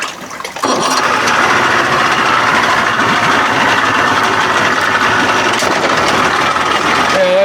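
A 1992 Johnson 60 hp outboard motor idles steadily and fairly loudly for several seconds with a constant rough hum, after a brief quieter moment at the start.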